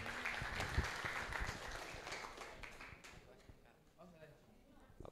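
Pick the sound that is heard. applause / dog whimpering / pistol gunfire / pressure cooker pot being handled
applause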